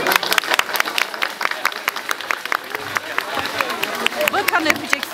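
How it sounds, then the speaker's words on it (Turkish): An audience at a children's show claps in a quick, uneven patter of separate hand claps, close and fairly loud throughout, with some voices and crowd murmur mixed in. "İstediğimiz bol bol alkış."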